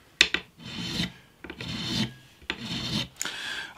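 A metal file works across the frets of a bass guitar neck during a fret dressing job: four rhythmic rasping strokes with short pauses between them, close and clear, with no talking.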